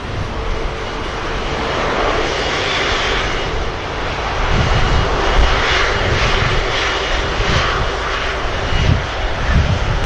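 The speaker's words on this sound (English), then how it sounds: "about to spool up now for departure to Madrid" The jet engines of an Airbus A330 spool up for departure at Manchester Airport, giving a loud, steady roar that swells gradually over ten seconds as heard from outside.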